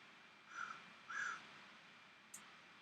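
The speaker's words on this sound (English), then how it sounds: "I think one of my neighborhood crows is out the window watching me draw." A crow outside a window gives two harsh caws about half a second apart, followed by a faint short sound, all muffled and fairly distant over a quiet indoor background.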